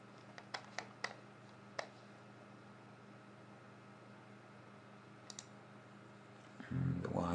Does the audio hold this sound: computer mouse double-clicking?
yes